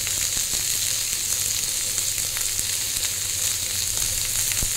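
Cauliflower and capsicum fry in a pan, giving a constant close sizzle with occasional sharp clicks of stirring, and no talking over it.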